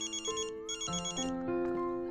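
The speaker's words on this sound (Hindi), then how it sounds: "इतने में बेड पर रखा ध्रुव का मोबाइल बज उठा।" A mobile phone left on a bed rings with a bright electronic melodic ringtone, tones stepping up and down across roughly two seconds, close and clear with no voices.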